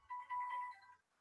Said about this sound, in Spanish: Perdón que me sonó el teléfono.